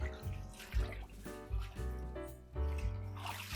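Vegetables, broccoli for a Christmas dish, being washed under running tap water, a faint steady splashing and trickling with soft rhythmic surges as the greens are turned in the stream.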